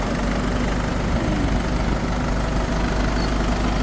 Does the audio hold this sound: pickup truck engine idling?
yes